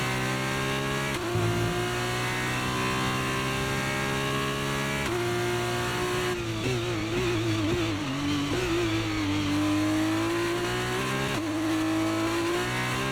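An F2 race car in the F1 23 racing game lapping Bahrain, its engine a loud, continuous high-pitched whine that climbs through gears, drops on shifts and wavers under braking and cornering, with no talk.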